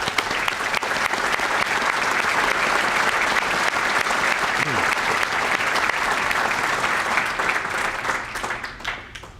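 An audience at a police awards ceremony applauds steadily for several seconds, a dense wash of clapping that holds strong and begins to thin out at the very end.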